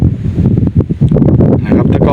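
Wind gusts buffet the microphone outdoors under open sky, a loud, steady rumbling roar with brief rustling bursts throughout.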